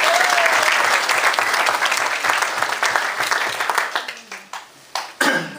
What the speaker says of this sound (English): I'd like to give yourselves a round of applause for that.